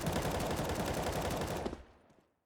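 Rapid automatic gunfire rattles continuously through walls during a competitive Counter-Strike-style shooter match at an esports league event, dense and loud for over a second before cutting off into a short fading tail.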